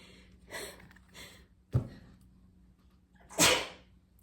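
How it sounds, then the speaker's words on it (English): A few short sharp intakes of breath build up, then a loud burst of a sneeze near the end, close and alone. "I'm going under a sneeze attack."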